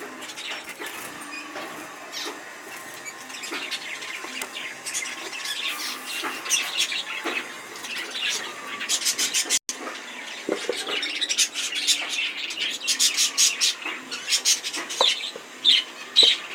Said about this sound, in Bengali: দেখুন ফ্রেন্ডস, এগুলো হচ্ছে আমার ফিঞ্চের বাচ্চা।